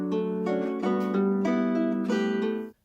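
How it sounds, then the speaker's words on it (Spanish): A cithara, the Greek string instrument, sounds a phrase of five or six plucked notes, each bright and sustained, close and fairly loud, before the music cuts off abruptly. "y la cítara suena así."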